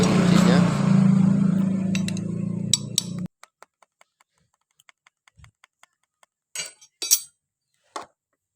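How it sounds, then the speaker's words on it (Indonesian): Someone works on the lock ring bolt of a Honda Karisma motorcycle's clutch, loosening it with a tool. Someone talks first, then sparse, faint metallic clicks and clinks follow in quiet. "Kita buka dulu baut ring penguncinya."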